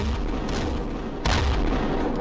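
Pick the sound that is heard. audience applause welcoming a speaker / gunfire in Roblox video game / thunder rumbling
gunfire in Roblox video game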